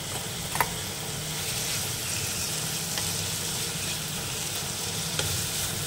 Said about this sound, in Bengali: এটা 2 মিনিট ভাজা হবে, আবার উল্টে দেবো পরে।